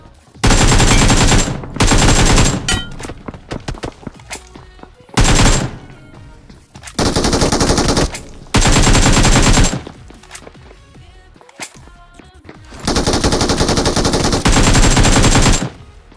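Loud bursts of automatic gunfire in the BGMI battle royale game, rapid machine-gun volleys in several long strings separated by quieter gaps of sporadic shots.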